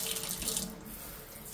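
Hot water runs from a tap for rinsing, a steady close splashing stream into a sink with no talking over it.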